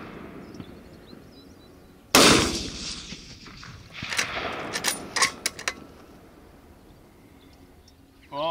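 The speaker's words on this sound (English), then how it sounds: "I just sent three shots at that woodchuck at 530 yards and missed it all three times" A 300 Win Mag rifle fires at a groundhog in a field, one sharp, loud crack followed by a scatter of fainter cracks and echoing snaps, with quiet outdoor background before and after.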